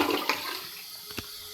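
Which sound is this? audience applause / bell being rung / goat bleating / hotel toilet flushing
hotel toilet flushing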